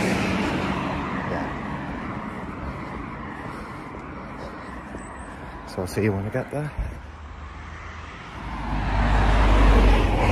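Roadside traffic rumbles steadily in the background, with a passing vehicle swelling louder near the end, while a person talks briefly over the noise.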